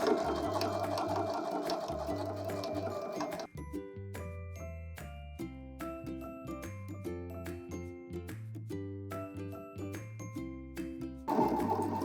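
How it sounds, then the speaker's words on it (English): Sewing machine stitching a swirly chenille design onto fabric, a steady mechanical whir running throughout, with a bright tinkling melody of music playing over most of it. "Now I have my swirl sewn onto the fabric, so you can see you can also create designs with your chenille."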